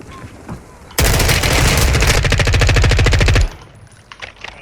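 Enemy gunfire from above in Warzone 2.0: after a short lull, a loud sustained burst of rapid automatic fire rattles for about two and a half seconds, then cuts off, leaving faint game noise.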